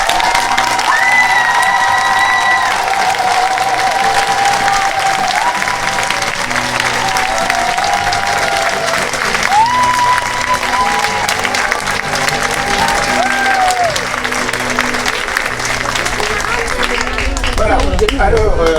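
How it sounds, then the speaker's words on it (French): Long, loud applause and cheering from a crowd at a parish end-of-year pastoral celebration, continuous clapping mixed with voices, shouts and children nearby. "Vous avez applaudi, mais je n'ai pas entendu."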